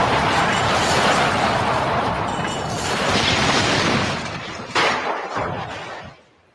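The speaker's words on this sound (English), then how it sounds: "The explosion came as a complete surprise." An explosion sound effect in a radio drama fills the opening as a loud, sustained roaring crash with rubble-like rumble, then dies away to quieter debris clatter and fades out at the end.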